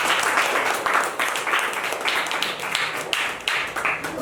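A crowd at a children's gathering in a Barasat ashram, held for a pre-puja clothing distribution, claps loudly for a boy about to recite a poem. The many hands make a full, rapid, sustained burst of applause.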